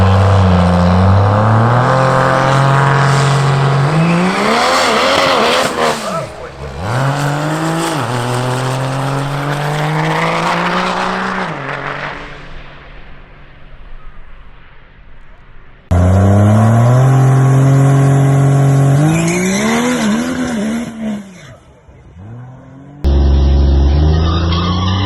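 A nitrous-fed Cummins diesel drag truck roars down a drag strip, its engine climbing through gears with shifts, close and loud, then fading as it runs away, with further engine bursts heard afterward.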